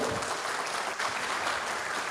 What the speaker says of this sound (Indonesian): Boleh kita berikan tepuk tangan terlebih dahulu Bapak Ibu?